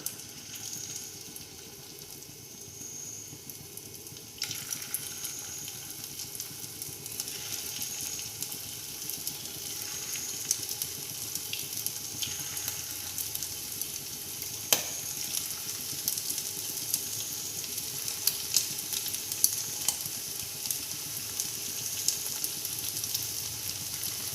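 Refined oil sizzles steadily around chicken pakora frying in a pan, a continuous bright crackle with occasional sharper pops and a soft stir or clink now and then, no voices over it.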